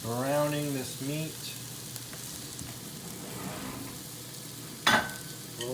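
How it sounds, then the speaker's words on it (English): Floured steak browning in a little olive oil in a pan, a steady close sizzle and crackle. A person talks briefly at the start, and a sharp scrape or clink comes near the end. "we've got our floured steak in this pan with a little olive oil, and we are just browning this meat"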